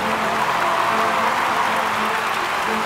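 Dense, continuous audience applause at the Armenia TV music awards held in Sochi, a loud steady wash of clapping from a large hall crowd.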